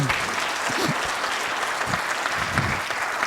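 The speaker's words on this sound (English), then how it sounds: "How about a round of applause for her?" A crowd at an auction school's student auction claps for an instructor. The applause is dense and steady, close and loud, and runs unbroken for a few seconds.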